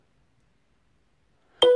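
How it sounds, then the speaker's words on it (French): After near silence, a short, bright notification chime rings out from an Oukitel K5 smartphone and is cut off at the end. "Désolé pour la notification"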